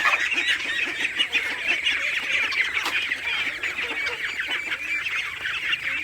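Chickens cluck and squawk continuously on an open farm where sheep are also kept, a loud, dense, overlapping flock chatter that runs without pause and with no talking.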